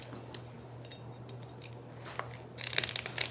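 A knife slicing into a cacio e pepe pasta pie with peas, fresh out of a springform pan: faint, sparse clicks and taps of metal on the dish, then a busier close scraping and crunching at the end.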